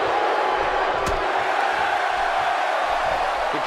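Crowd at a low-budget wrestling show roaring and cheering behind a wrestler, a continuous distant wash of voices with a sharp slam-like hit partway through.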